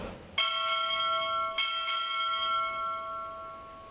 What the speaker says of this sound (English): Time orderly, strike four bells.